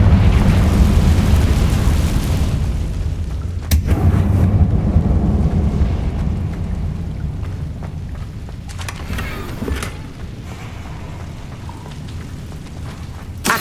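A Confringo fire spell detonates in the Hogwarts Legacy video game: a loud, sustained rumbling blast with a sharp burst partway through and further crackling impacts later, slowly fading.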